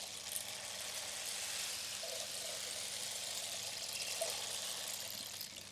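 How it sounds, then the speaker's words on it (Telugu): A water stick, or rain stick, is slowly turned, giving a steady, even rushing hiss like trickling water that continues unbroken and close, with no voices. "సో దీన్ని ఏమంటారంటే వాటర్ స్టిక్ అంటారు"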